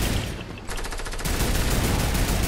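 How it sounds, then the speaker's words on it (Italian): Gunfire in the video game Fortnite: a short, dense burst of rapid shots, loud and close, with a brief lull before the firing resumes at full intensity. "Sparano, sparano."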